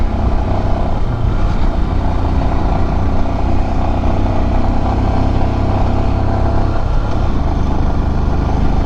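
A loaded motorcycle carrying two riders labours up a steep high-altitude road at full throttle in second gear, its engine droning loud and continuous with a steady low rumble that shifts slightly near the end.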